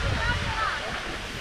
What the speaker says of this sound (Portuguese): Porque eu não sei por que tá jorrando água pra cá pra cima